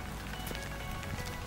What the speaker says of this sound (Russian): Сейчас дождь идет.